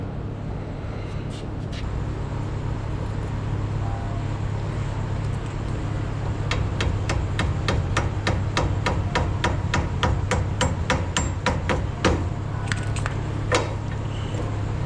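Bushings hammered into place in a workshop, a rapid run of about twenty sharp, evenly spaced metallic blows over a steady low mechanical hum, plus a few scattered taps before and after.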